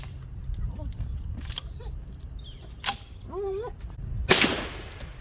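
A 9mm pistol-caliber shot fired with light 70 grain Liberty Overwatch ammunition from a long barrel, one sharp loud crack near the end, with someone talking and other faint shots before it.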